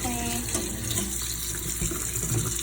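Tap water runs steadily into a kitchen sink as hands are rinsed under it, a close, continuous splashing rush with no speech over it.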